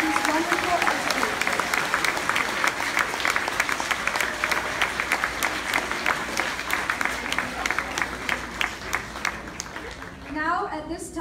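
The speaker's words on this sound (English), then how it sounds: "Can we please have another round of applause for these wonderful teachers?" Sustained applause from a large crowd at a school honor society induction ceremony, dense steady clapping that carries on for several seconds before thinning out near the end.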